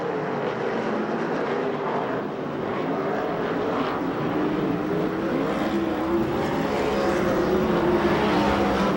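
Sprint cars race around the Perris track in a USAC/CRA event, their engines forming a loud, continuous roar that holds steady and close for the whole stretch, with no talk over it.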